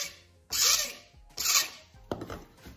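A hand file works the edge of a plastic egg holder clamped in a vise, giving three loud rasping strokes spaced apart, with no voices.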